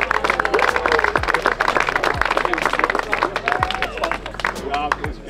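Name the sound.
applause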